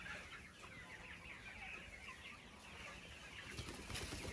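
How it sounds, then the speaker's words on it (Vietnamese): Chickens cluck on a chicken farm in Quoc Oai, Hanoi, a dense, steady flock murmur with overlapping calls that stays fairly even throughout and swells slightly near the end. "Trang trại gà khách."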